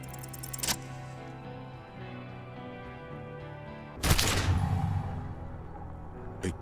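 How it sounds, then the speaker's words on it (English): Gunshot in the Disco Elysium video game, a sharp loud blast with a rumbling decay over music, preceded by a brief metallic click or clatter a few seconds earlier. "A plume of smoke and fire erupts from the gun, and your hand goes numb from the explosion"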